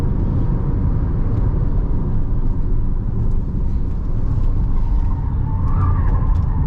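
Steady low engine and road rumble inside a moving Chery Tiggo 8 PHEV plug-in hybrid SUV on 19-inch tyres, climbing to Genting in Malaysia, continuous and fairly loud, with no talking.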